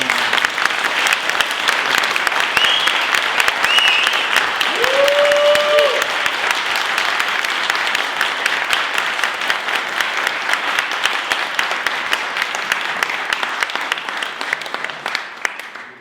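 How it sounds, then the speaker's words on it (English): Warm audience applause at an event in the UK Parliament on Black incarceration, sustained dense clapping from a sizeable crowd lasting many seconds, with a brief voice rising above it before the applause slowly tapers. "Give her a warm round of applause."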